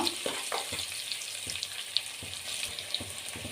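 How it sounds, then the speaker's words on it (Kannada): Onions fry in oil until golden after curry leaves go into a tempering for avarekalu sambar, a steady close sizzle with soft stirring scrapes and a few sharper clinks, no voices. "ಈಗ ಈರುಳ್ಳಿ ಗೋಲ್ಡನ್ ಕಲರ್ ಬರೋವರೆಗೂ ಫ್ರೈ ಮಾಡ್ಕೋಬೇಕು"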